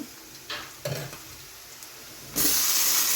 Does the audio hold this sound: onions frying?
yes